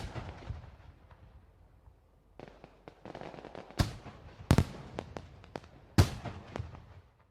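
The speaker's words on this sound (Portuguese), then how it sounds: "passa a ouvir o barulho de fogos de artifício." Fireworks burst in scattered sharp bangs and crackles, some loud and close, others fainter, with irregular gaps between explosions.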